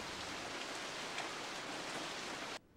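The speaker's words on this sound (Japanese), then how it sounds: "外は雨だぞ。" Rain falls outside in a steady, dense hiss of drops that holds evenly at moderate loudness and then cuts off abruptly near the end, with no voices.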